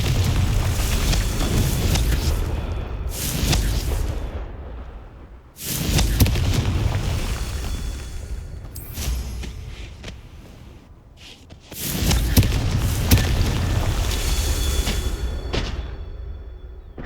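Confringo fire spell blasts in the Hogwarts Legacy game: three heavy booming explosions, each a loud low burst that rumbles and decays over several seconds, spaced roughly six seconds apart.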